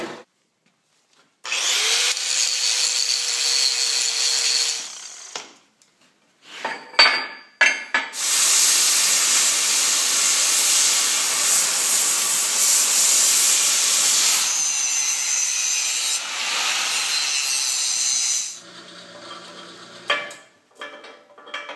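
A power saw or cutting tool cuts through the steel A-frame of a sweep plow hitch, running in loud sustained bursts with short pauses and changes in pitch between cuts, no talking.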